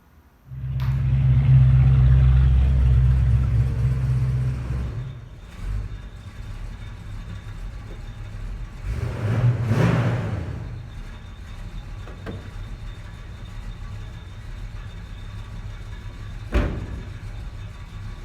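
A Cuda's engine rumbles low and steady after starting up, settling into an even idle with a brief rise midway and a small knock near the end.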